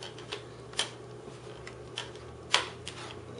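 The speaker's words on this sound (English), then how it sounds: "You'll hear like the clicking for the clips to lock." Plastic screen bezel clips on an Acer Aspire 7740G laptop snap into place, giving a few sparse, faint clicks in a quiet room.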